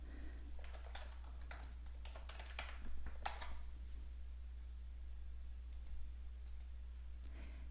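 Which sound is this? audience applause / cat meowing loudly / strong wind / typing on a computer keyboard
typing on a computer keyboard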